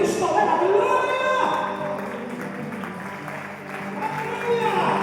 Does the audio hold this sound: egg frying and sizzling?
no